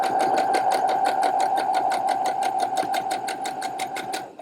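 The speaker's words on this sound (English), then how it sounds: "I'm going to pop my first set of half square triangles under the sewing machine foot" A sewing machine stitches pairs of fabric half square triangles, running in a fast, even mechanical rhythm of needle strokes, close and loud for the whole few seconds without any talk.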